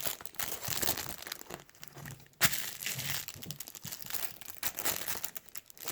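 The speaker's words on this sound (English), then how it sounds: "And it came in this little plastic bag." A small plastic bag that held a mini construction dump truck toy is crinkled and handled up close, making irregular crackles and rustles with one sharp crunch midway.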